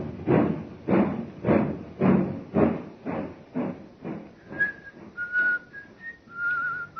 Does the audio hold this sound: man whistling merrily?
yes